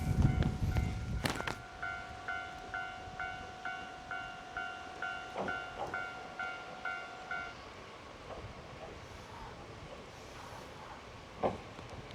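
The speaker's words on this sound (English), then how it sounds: "Oh, the panda train's coming back." The panda train runs along the coast in Japan with a rhythmic clickety-clack of wheels over rail joints and a steady tonal hum, then fades away, leaving rustling outdoor ambience.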